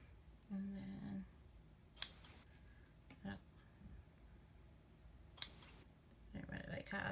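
Scissors trim the edge of a paper card for a handmade Halloween card, with two sharp, close snips separated by quiet and a longer rustling cut at the end, over a faint voice.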